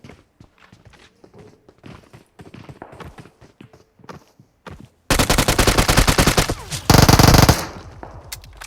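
Gunfire from PUBG Mobile, starting as scattered shots and footstep-like taps, then breaking into loud, rapid automatic bursts that run close and continuous for several seconds.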